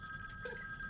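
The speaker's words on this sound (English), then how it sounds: "Dad, do you want to get the phone?" A telephone rings indoors, a short electronic bell-like trill with a steady high tone and a brief burst, faint and heard alone for about a second.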